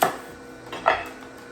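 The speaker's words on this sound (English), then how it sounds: "I'm just going to chop the ends off." A knife chops the ends off celery stalks on a cutting board, two or three sharp, close chops with quiet pauses between.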